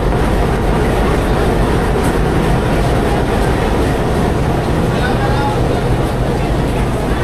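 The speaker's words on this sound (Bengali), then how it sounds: "রাজশাহী কমিউটার ট্রেনটি চলে এসেছে ঈশ্বরদী থেকে।" The Rajshahi Commuter Train, hauled by a 6400 series locomotive, rumbles loudly and continuously past at close range, a steady roar with rattling wagons throughout.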